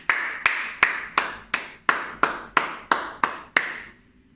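A church congregation claps in unison to acclaim the word of God, ten crisp, evenly spaced claps in a steady rhythm, fairly close and with no talking over them.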